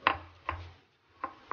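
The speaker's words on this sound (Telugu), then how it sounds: "కారము, తెల్లగడ్డలు దంచుకోవాలి" Garlic is pounded with chili powder and a little salt in a mortar, giving four dull, close thuds in an uneven rhythm within a second and a half, with no talk.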